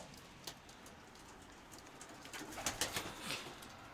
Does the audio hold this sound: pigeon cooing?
yes